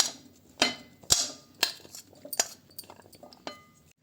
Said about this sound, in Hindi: सबसे पहले एक बाउल में मैं ये चॉप किए हुए आलू डाल देती हूँ